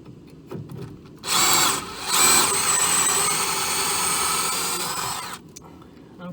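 A power drill whines loudly while boring out a part on the brakes of a 1979 Mazda RX7, starting abruptly, surging twice, holding a steady high-pitched grind for about four seconds, then cutting off.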